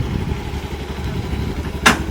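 An Activa scooter engine runs at a low idle close by, a steady rumbling putter with a brief clatter near the end.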